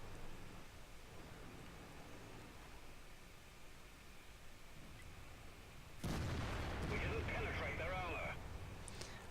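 A Conqueror tank fires its main gun in a tank battle video game, a sudden loud boom cutting through a low, hissing background and followed by a ringing, rumbling tail.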